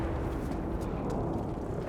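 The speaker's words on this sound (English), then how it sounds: "On impact, it sets off one of the biggest explosions in Battlefield 5, annihilating most buildings or enemies within its radius." A V1 flying bomb detonating in the World War II shooter Battlefield V, heard as a sustained, dense low roar of blast and rumbling debris that stays loud and steady throughout.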